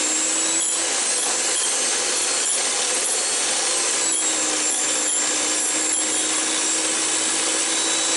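An electric mixer whips egg white for a homemade face mask, a steady buzzing whir with rhythmic scraping pulses as the beaters hit the bowl, close and continuous.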